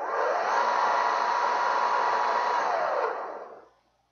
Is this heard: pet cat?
no